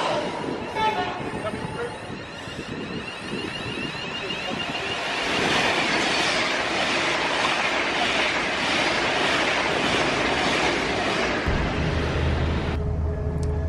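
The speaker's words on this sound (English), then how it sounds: "we suddenly decided to hop on a train and go back north a bit as far as Burke Hampstead" A train ride heading north toward Berkhamsted: a steady rumbling, rattling carriage drone with clattering rail noise that swells midway, while a person talks over it before the sound cuts out near the end.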